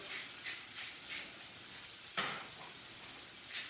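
Meat fat sizzling and caramelizing in a pan, a constant hiss broken by regular soft bursts of spitting and one sharper crackle, close and fairly quiet, no speech.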